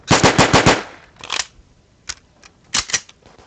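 Gunfire in the video game Robot Zombies: a quick burst of about six rapid shots, then a few scattered single shots and a short double burst, loud and close with no talking.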